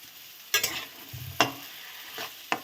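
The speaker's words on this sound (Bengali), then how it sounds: "দিয়ে একসাথে আমি এটাকে ভালো করে কষিয়ে নেব।" Spice paste (masala) being sautéed in a pan, a low sizzle broken by several sharp scraping strokes of a spoon against the pan at uneven intervals, close up.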